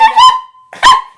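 Two loud, close dog barks in quick succession, high and tonal like a yelping howl, with a short gap between them and no talking.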